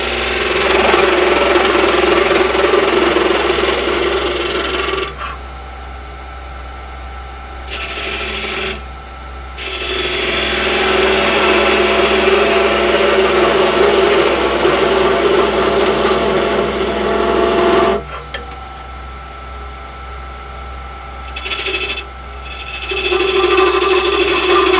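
A wood lathe spins a hollow wooden tube while a tool cuts a tenon, a loud continuous rasping scrape over the motor's hum that drops away in several pauses between cuts.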